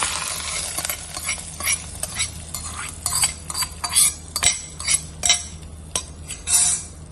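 Curry leaves and cassava are stirred in a pan over sautéed onions, with a rhythmic series of close metal scrapes and clinks over a low sizzle.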